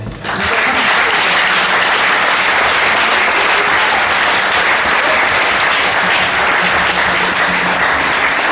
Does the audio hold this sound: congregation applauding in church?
yes